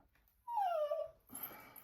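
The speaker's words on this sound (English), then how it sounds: "Sorry, my puppy's crying." A puppy gives a single close, drawn-out whimpering cry that falls in pitch, followed by a short snuffly breath. No one talks.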